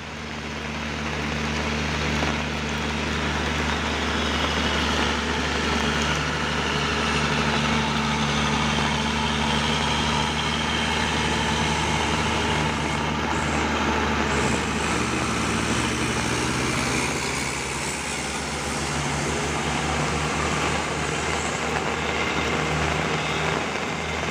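A heavy 6x4 Fuso truck engine drones loudly and continuously as it climbs a steep hill in heavy rain, a low laboring rumble that holds steady for the whole stretch with steady background noise.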